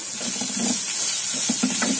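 Onions sautéing in a pan, giving a steady, close sizzle and hiss with soft stirring scrapes rising and falling through it.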